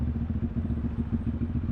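A motorcycle weaving through traffic in the Philippines: a steady, close, low engine rumble with a fast pulsing throb and a slight mechanical clatter, continuous throughout with no speech.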